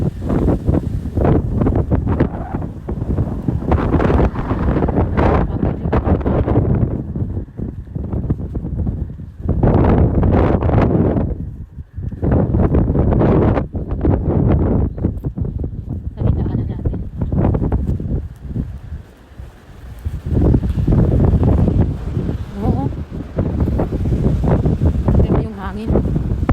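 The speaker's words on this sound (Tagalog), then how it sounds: "If ever man na umuulan tapos ganito kalakas yung hangin." Strong gusts buffet the microphone in loud roaring bursts that rise and drop, with brief lulls between them, while a person speaks intermittently under the wind.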